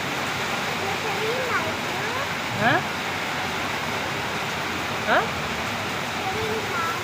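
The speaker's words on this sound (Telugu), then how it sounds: "ఫుల్ వాన పడుతుంది" Dense, steady hiss of heavy rain, with a couple of brief chirps or calls rising above it.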